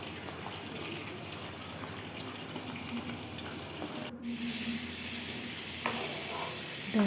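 A soft, steady bubbling and simmering of liquid with gooseberries continues throughout, quiet and close, with a faint hiss and no talking.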